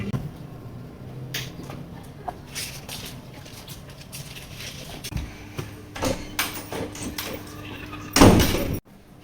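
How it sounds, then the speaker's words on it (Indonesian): A door bangs shut at home, one loud close slam near the end after softer knocks and footsteps, with faint background noise. "Baru pulang udah banting-banting pintu?"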